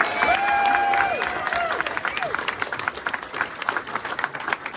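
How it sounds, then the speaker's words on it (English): A crowd bursts into applause with some cheering, the clapping loud at first and then thinning out. "Let's hear it for Dan Bealey, folks."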